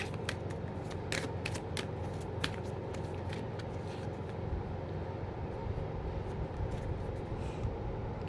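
Tarot cards are shuffled steadily in a quiet room, their soft riffling slaps and rustles repeating quickly and evenly, close and moderately loud, with no talking.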